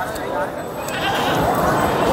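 A goat bleats at a crowded goat market amid the steady hubbub of the crowd, with people talking close by.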